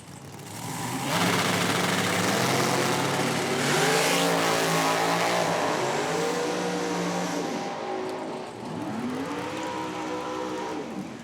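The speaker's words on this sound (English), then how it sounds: "the Copo blown LS engine on that dragster" A drag racing dragster with a Copo blown LS engine at an IHRA Outlaw Nitro event in Milan: loud sustained engine roar with rising and falling revs, rumbling on for about ten seconds.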